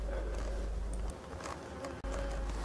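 Black bees buzz steadily around their hives, a dense continuous hum close by with a brief dip near the end.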